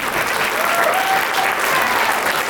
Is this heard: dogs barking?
no